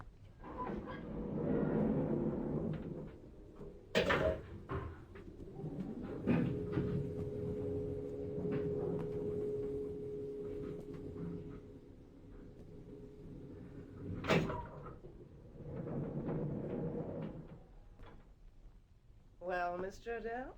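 In a radio drama, a self-operating lift shuts its doors with clunks and then hums steadily as it moves, with two sharp knocks along the way. Voices speak near the start and end, and a tone sounds at the close.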